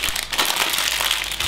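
A plastic bag of LEGO parts is opened and rustled up close, a short burst of dense crinkling and crackling plastic with no talk.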